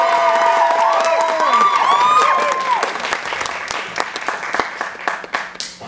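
An audience at a December 2013 CIA improv show applauds and cheers, dense clapping with whoops and shouted voices up close, loud at first and thinning out toward the end.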